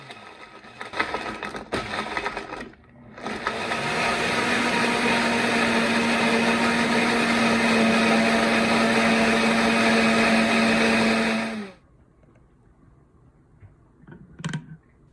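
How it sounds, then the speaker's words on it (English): A Breville 3X Bluicer runs its smoothie preset on spinach, strawberries, carrots, honey and ice. After a few choppy bursts it settles into a loud, steady motor whine for about eight seconds, then cuts off into quiet. "I'll use the smoothie preset to blend up my drink."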